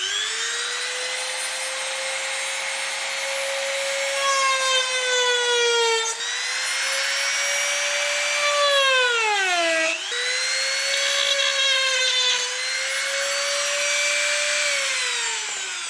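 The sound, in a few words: Dremel rotary tool with sandpaper sanding plastic bumper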